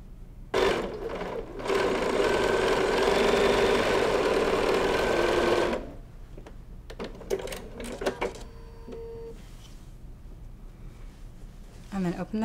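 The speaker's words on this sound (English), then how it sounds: "here I'm using a walking foot and I'm going to sew a 1/4 inch seam allowance all the way down the strip" Sewing machine with a walking foot stitching a 1/4 inch seam down a quilt strip at 2.5 stitch length: a loud, steady whirring run of about five seconds, then quieter handling clicks and rustling.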